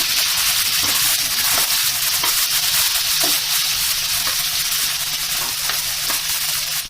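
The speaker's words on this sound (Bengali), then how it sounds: "পেঁয়াজগুলো ভালো করে ভেজে নিই।" Onions frying in a pan, a loud continuous close sizzle with faint scraping and stirring underneath, steady throughout with no voices.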